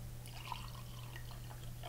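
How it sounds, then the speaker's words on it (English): Indicator liquid poured from a kettle or pitcher into a clear glass, a soft steady trickle with a few drips over a constant background hum. "you take your tea kettle or your pitcher of indicator and you pour it in"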